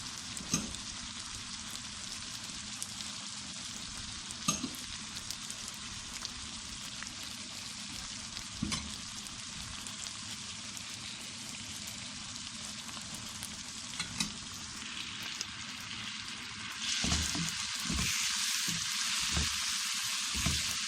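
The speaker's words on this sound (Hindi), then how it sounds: "अब इसमें टमाटर, बाकी मसाले डालते हैं।" Tomatoes and spices sizzle steadily in a hot pan while bakra roast is being cooked, a continuous frying hiss with occasional stirring knocks that grows louder and brighter near the end, with no voices.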